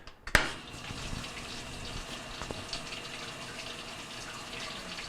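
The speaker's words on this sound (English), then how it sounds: "we're going to go ahead and fill it up with some water here" Water pours into the tub of a leaking Whirlpool washing machine, a steady gushing fill that begins with a sharp thud of the valve opening and then holds at a constant hiss.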